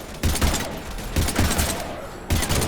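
Bursts of rapid gunfire in the video game Mass Effect Legendary Edition, loud and close, coming in several clusters with brief gaps between volleys and no talk over them.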